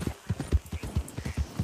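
Hooves of a horse in Red Dead Redemption 2 Online beat out a quick, even clip-clop rhythm, loud and close, with no talking over the short run.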